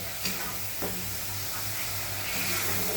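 Crab curry masala paste sautéing in oil in a pan, a steady soft sizzle with faint stirring scrapes at intervals, close and continuous, with no voices.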